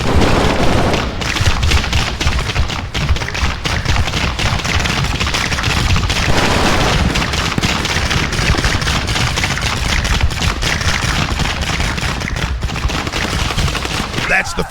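Sustained battlefield gunfire in the Warno strategy video game as units open fire, dense overlapping rifle and machine-gun shots with booming impacts, loud and continuous for many seconds, with occasional voices underneath.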